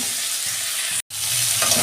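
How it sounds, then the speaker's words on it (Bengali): Sea crab frying in hot oil in a pan gives a loud, continuous sizzle, broken by one brief silent gap before the hiss resumes, with no voices. "দু মিনিট আমি একটু ভেজে নেব।"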